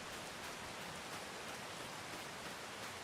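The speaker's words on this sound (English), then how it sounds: "I'm so happy that it's raining" Steady rain falling in the farming game Farming Simulator 25, a dense, even hiss of droplets that holds constant and fairly loud throughout with no voices.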